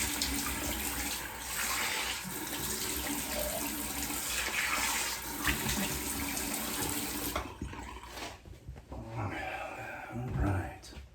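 Tap water runs steadily and fairly close during a rinse after a shave, a broad continuous splash that thins and turns patchier near the end.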